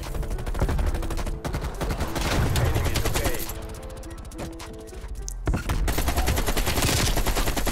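Rapid automatic rifle fire from an AK-47 in a multiplayer shooter game, dense bursts of gunshots over a busy battle soundscape, loud and continuous with a brief lull midway.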